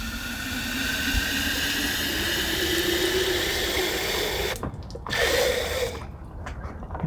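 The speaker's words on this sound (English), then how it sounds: "this is the exciting part, where I put water in a jar" Water pours steadily into a jar outdoors while fertilizing onions, a continuous rushing, filling sound that rises in pitch, then breaks off briefly and resumes near the end.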